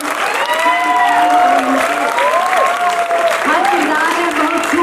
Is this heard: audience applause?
yes